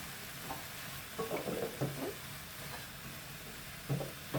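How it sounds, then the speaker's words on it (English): A spoon stirs apples with sweetener and vinegar in a hot pan, giving soft scraping strokes over a faint, constant sizzle, with a few louder knocks against the pan. "I'll just give that a stir."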